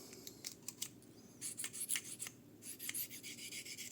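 A knife blade rubbed over the fine-grit ceramic face of a Fallkniven CC4 sharpening stone, giving quiet, close, rhythmic scraping strokes in quick succession with no talk.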